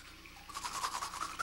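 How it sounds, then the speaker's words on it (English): Someone brushes their teeth with a toothbrush: rapid, rhythmic scrubbing strokes close by, starting after a brief quiet moment and continuing in a quick back-and-forth pattern. "Now it sounds like Bob's brushing his teeth"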